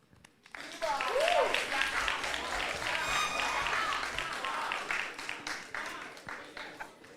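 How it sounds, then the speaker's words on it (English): An audience at the Ghana's Most Beautiful pageant breaks into loud, sustained applause for the contestants as their names are called, with cheering mixed in and a host's voice speaking over it. "give the ladies a huge round of applause when I call their names"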